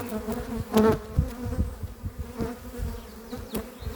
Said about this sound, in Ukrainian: Бджоли не вміщаються, не вміщаються в льоточок.